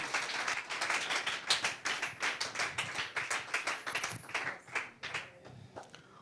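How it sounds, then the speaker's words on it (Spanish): A church congregation claps, starting as a dense burst of many hands and gradually loosening into scattered, separate claps that fade out toward the end. "Give an applause to God."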